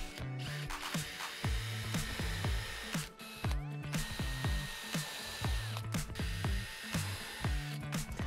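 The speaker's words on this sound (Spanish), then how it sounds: "hacemos una guía para los tornillos y atornillamos" A power drill drives screws into melamine panels of a cleaning-supply cabinet, close and fairly loud, in repeated short bursts of rising whine with brief pauses between.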